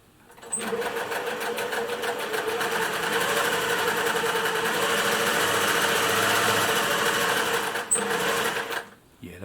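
Singer 401A sewing machine from the 1950s running a forward stitch, a steady, close mechanical whir with a rough, rattling knock that holds for about eight seconds before winding down.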